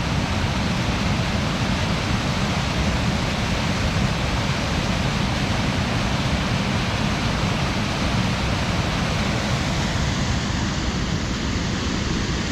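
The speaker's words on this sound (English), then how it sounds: "Oh, this river is just raging." A raging mountain river in the Alpine Lakes Wilderness rushes down a steep course, a loud, dense and unbroken roar of white water heard close up with no voices.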